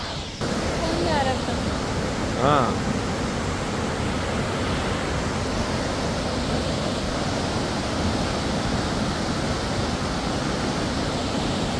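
A waterfall roars in a constant, broad hiss that stays level from start to finish, with a brief voice surfacing faintly near the beginning.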